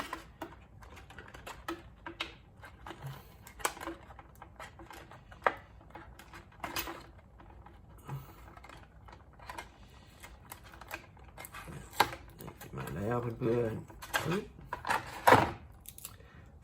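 Tape being peeled and cardboard handled while unboxing a Jujutsu Kaisen volume 19 box set: a run of close, irregular clicks, rustles and tearing, louder near the end, with someone talking in between.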